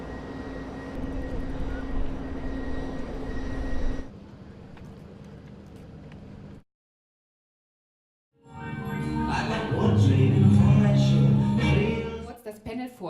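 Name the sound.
airplane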